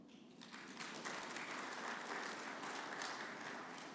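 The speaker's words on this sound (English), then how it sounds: "We're supposed to get a clap." Scattered clapping from the audience at a company annual general meeting builds after a quiet start into a modest, steady round of applause, fairly faint and distant.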